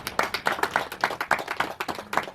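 A church congregation at a Christian prayer meeting claps by hand in a loose, steady rhythm, the claps sharp and close, with roughly a dozen distinct beats.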